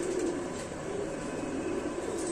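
A large Rampuri mom-chonch pigeon, about twenty years old, coos in a low, continuous, soft murmur that stays faint and steady, with no talking over it.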